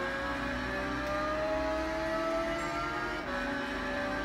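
A Ferrari races on the High Speed Ring in Gran Turismo on PS4, its engine a steady high-pitched drone that holds at speed with a slight dip near the end, heard alone without talk.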